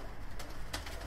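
Miro-line Altuni pigeons in a coop give soft, low coos near the mic, with two brief brighter rustles over a steady murmuring background.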